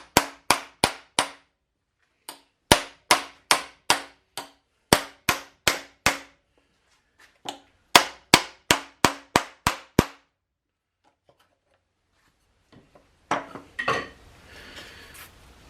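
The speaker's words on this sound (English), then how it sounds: "I'm just going to lay it on the anvil. And I'm just going to tap around the outside edge of it" A steel hammer taps a three-inch leather hole punch resting on an anvil, a run of sharp metallic strikes in quick clustered bursts with short pauses, close and fairly loud, ending in softer rustling handling sounds.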